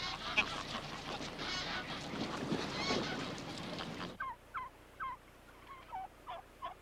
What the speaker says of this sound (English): Wild turkeys also still exist.